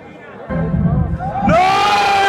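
Crowd in a Hollywood cinema at a Star Wars screening erupting in angry shouts and whoops, a burst of mixed voices that swells sharply louder halfway through and stays loud.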